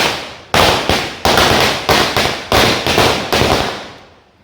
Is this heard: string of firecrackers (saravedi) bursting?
yes